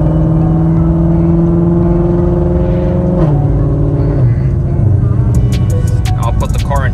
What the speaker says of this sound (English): Here's some normal mode shifts.